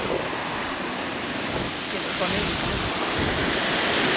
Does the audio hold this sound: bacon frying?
no